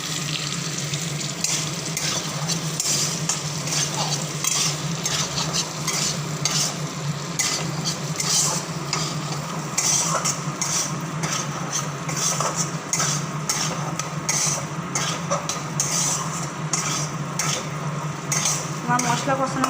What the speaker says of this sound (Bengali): এবার এই কষানোর মধ্যে খানিক কাশ্মীরি মিরিচ, একটু হলুদ গুঁড়ো দিয়ে দিলাম